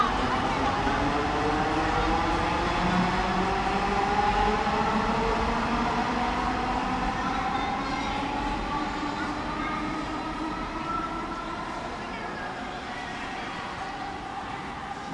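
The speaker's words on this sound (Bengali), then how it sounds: "এটা আজমাইনের দ্বিতীয় মেট্রো রেল ট্রাভেল।" A metro rail train travels along the line, heard from inside as a steady loud rumble with rising and falling motor whine throughout, no break in the sound.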